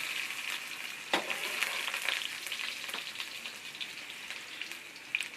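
Blended garlic and onion frying in a pan for fried rice, a steady close sizzle with crackling spatter and a few sharper stirring scrapes, without any talking.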